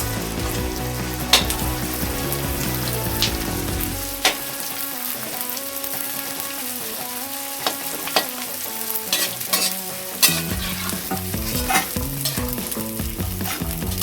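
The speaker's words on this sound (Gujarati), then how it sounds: "આપણે ગુંદર તળી લેવાનું છે." Edible gum fries in hot ghee over a low flame with a steady, continuous sizzle, broken by stirring scrapes and occasional sharp clinks of a utensil against the pan.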